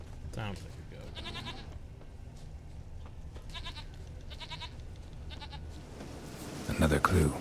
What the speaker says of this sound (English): Sounds like a goat.